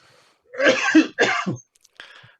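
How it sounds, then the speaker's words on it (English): A man coughs and clears his throat, two rough bursts close to the microphone followed by a shorter, softer clearing sound. "See, I'm coughing too."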